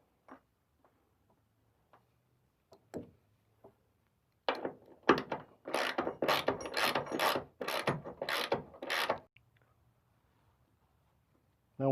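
A hand ratchet tightens a bolt on a Ford Ranger's suspension, starting with a few scattered clicks and then a rapid run of loud, close ratcheting strokes that stops abruptly.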